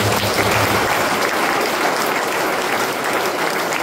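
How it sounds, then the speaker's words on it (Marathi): A gathered congregation at a prayer healing meeting breaks into dense, sustained applause, loud and even throughout, with no talk over it. "आपण टाळ्या"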